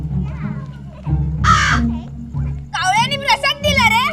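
A crow caws loudly over lively voices and shouting, its harsh calls overlapping the talk near the end.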